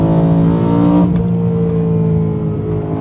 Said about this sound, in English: the downshifts sound glorious. It's very toneful exhaust.